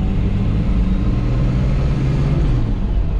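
A loud, steady six-cylinder engine drone heard from inside a moving Chevrolet Caravan Comodoro, deep and continuous with a faint rise in pitch, and no voices.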